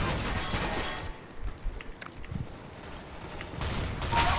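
Rapid bursts of gunfire from the video game CS:GO, loud and dense at the start and end with a quieter stretch of scattered shots between.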